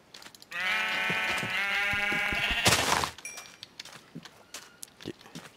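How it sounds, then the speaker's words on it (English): Sheep in the video game Minecraft bleat in one long, loud, wavering call, followed by a sharp burst and then scattered faint clicks and game sounds. "Just need enough sheep for bed."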